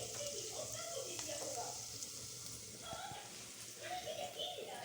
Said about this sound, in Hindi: तो अभी प्याज ब्राउन पे रखी है, कहीं जल ना जाए इसलिए छलकी कर दी थी मैंने